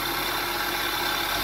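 The 2003–2007 Honda Accord V6 automatic idles steadily after a replacement of its upper transmission mount, a constant, even engine hum with no talking.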